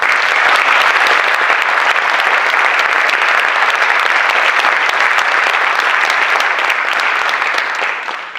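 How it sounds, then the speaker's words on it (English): Dense, loud applause from an audience after a Carnatic music performance, a continuous roar of many hands clapping evenly throughout before easing slightly at the very end. "Please give her a big round of applause."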